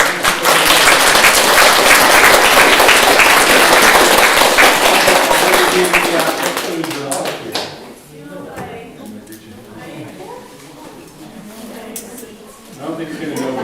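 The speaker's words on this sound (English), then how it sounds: "I'd like to do one more round of applause." Loud, dense applause from a garden-talk audience for the presenter, sustained for several seconds before fading into a speaking voice and quieter room noise.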